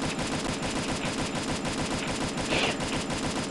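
Sustained rapid gunfire from a Free Fire battle royale match, a dense, loud automatic rattle running steadily throughout with no talking.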